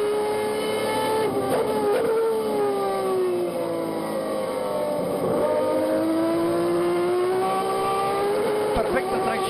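A race car engine screams through a circuit race in Viedma, Argentina, its loud sustained whine rising and falling with gear changes and throttle, sweeping up in pitch and dipping as the car brakes and accelerates again.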